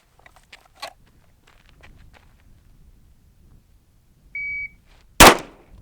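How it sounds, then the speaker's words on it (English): Faint rustling and footsteps, then one short electronic beep from a shot timer, followed immediately by a sharp, loud gunshot during a target transition shooting drill. "So I'm looking at the same target, transitioning as the beeps"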